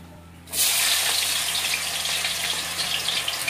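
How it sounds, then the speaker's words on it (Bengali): Potatoes hit hot oil in a pan, setting off a sudden loud, steady sizzle after a brief quiet moment, with the crackle holding strong and close throughout. "আমি এবার একে একে এইগুলা ভেজে নেব। ফার্স্টে আমি আলুটা দেব।"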